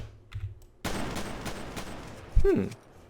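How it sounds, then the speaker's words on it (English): A sawn-off shotgun fires once, held one-handed in the game SAMP, a sharp blast landing late over steady game background noise, with no speech. "What if I aim with one hand with a sawn-off shotgun?"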